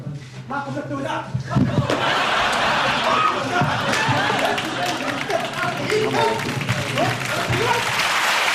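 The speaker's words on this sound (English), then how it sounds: "It's a round of applause." Studio audience applause on a British comedy panel show, a dense, sustained wash of clapping with cheering, while voices talk over it throughout.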